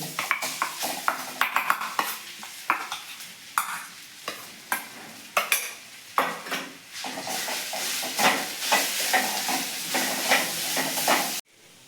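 Crushed pigeon peas (tuvar) stirred and frying in a pan of green chili-garlic paste for lilva kachori filling, a steady sizzle with frequent spoon scrapes and clinks against the pan, close and continuous with no talking.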